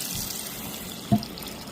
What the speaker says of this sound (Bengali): লিচুগুলোকে আগে আমি ধুয়ে দিই